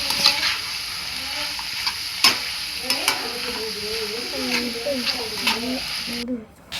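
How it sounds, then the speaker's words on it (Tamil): Chicken being stirred in a pan with home-ground chili powder and homemade curry masala powder, with steady sizzling and frying and intermittent scraping stirs. Faint voices carry on in the background. "சேர்த்து நல்லா கலக்கி விட்டுக்கலாம்."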